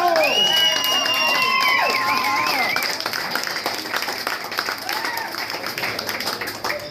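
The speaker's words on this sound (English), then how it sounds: "please give a round of applause for our special guest" At a surf reunion gathering at the Texas Surf Museum in Corpus Christi, a crowd applauds and cheers for a special guest, loud clapping with whoops and raised voices that gradually settles into lighter scattered clapping.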